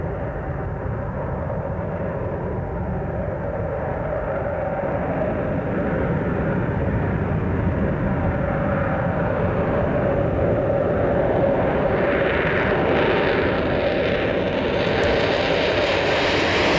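A YF-23 Black Widow II prototype jet roars through its takeoff roll at full power, a loud, sustained engine rumble that slowly builds and brightens toward the end.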